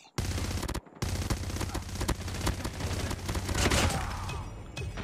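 Sustained automatic gunfire in the mobile game Call of Duty Mobile, on the Terminal map: loud, rapid bursts fill the clip after a brief pause near the start, with no speech.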